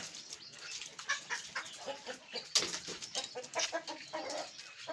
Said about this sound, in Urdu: یہ مرغی دیکھیں جی یہ بھی بھیگی ہوئی ہے